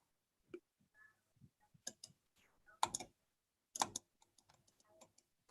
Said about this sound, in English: I can hear frantic clicking.